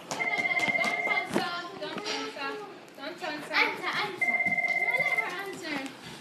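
A telephone rings in two bursts of trilling electronic tones, loud and near, with a voice talking and playing between and over the rings.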